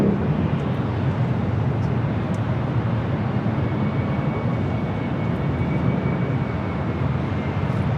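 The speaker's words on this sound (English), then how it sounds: "Here we have United Airlines 1855 taking off to Newark on the" A United Airlines Boeing 787-10 Dreamliner takes off from LAX, its jet engines making a loud, steady, broad roar that holds without a break.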